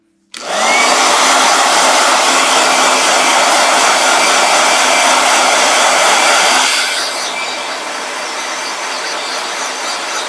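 A hair blow dryer switches on abruptly and runs as a loud, steady, close whoosh, dropping to a slightly softer, lower setting near the end, with no talking over it.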